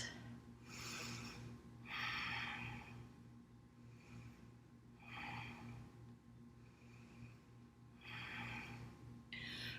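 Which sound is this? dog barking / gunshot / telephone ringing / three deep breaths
three deep breaths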